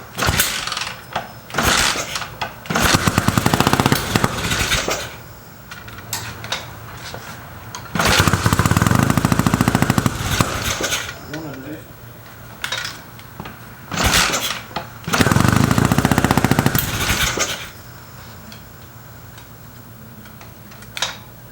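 A 1970s old-school chopper motorcycle, kick-started and running on the little fuel left in its carburetor, idles loudly with a lumpy rhythm and surges into several revving bursts, close up and with no talk.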